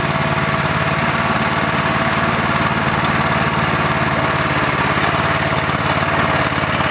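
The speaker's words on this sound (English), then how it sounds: "I think this is supposed to be my tiller" A repaired Merry Tiller's small engine runs steadily and loudly up close, a continuous rough, knocking drone with no pauses and no talk.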